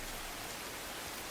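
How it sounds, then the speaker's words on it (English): Pouring rain in a movie scene makes a steady, even hiss throughout, faint and unbroken with no voices. "Remember, it's pouring rain."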